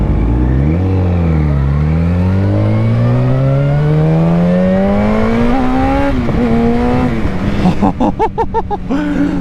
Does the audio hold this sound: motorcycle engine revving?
yes